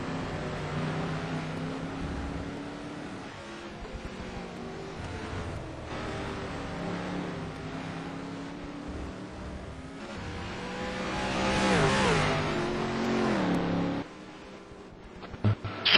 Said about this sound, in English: Panu Roncainen going down the flat straight here at top speed, should be in 6th gear by now